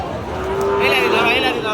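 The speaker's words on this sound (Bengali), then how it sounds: "এটা বর্ডার ক্রস একটা শাহিওয়াল বাচ্চা গরু।" A young border-cross Sahiwal calf at a cattle market gives a single drawn-out moo that rises and wavers, heard close over murmuring crowd chatter.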